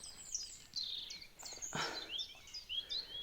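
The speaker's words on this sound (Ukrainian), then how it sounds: "Пташечки співають, сонечко починає виходити." Several birds chirp and sing outdoors in the morning, high bright calls scattered through the clip, fairly quiet with no voices.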